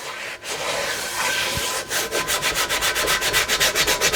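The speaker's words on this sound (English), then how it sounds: "We're going to take our scrubby and just give it a good scrubbing to start with." A scrub pad rubs across a wet cast iron pan in a steady, rhythmic back-and-forth, with close, raspy scraping strokes that grow quicker and more regular as the scrubbing continues.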